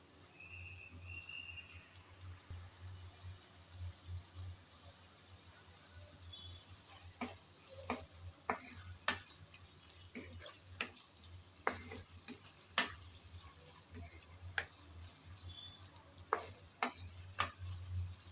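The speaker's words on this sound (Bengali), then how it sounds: "কিছুক্ষণ সময় ধরে মশলা ভালোভাবে কষিয়ে নিলাম।" Chili, tomato and spices fry in a pan for a fish recipe with a low steady sizzle, broken by frequent sharp scrapes and clicks of a ladle stirring, growing busier partway through.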